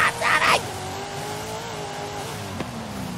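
Subaru race car in third gear during an endurance race, its engine a steady, close droning hum. A brief rough burst of noise opens the sound and a small click comes near the end.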